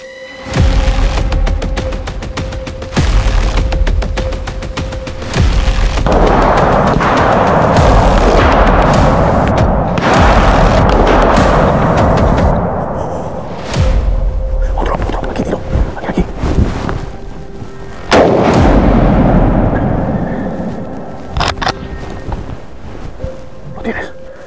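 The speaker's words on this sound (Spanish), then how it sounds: "Nuestro amigo disparó hasta en 5 ocasiones, demostrando sobre el terreno la velocidad de recarga del SXR-2 Pump." A Winchester SXR2 pump-action rifle fires at wild boar on a hunt. Loud booming shots roll away with long echoing tails, broken up by gusty wind buffeting the microphone and some voices.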